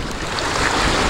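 Choppy river rapids splash and rush around a dugout canoe as a steady, loud wash of water noise with wind buffeting the microphone.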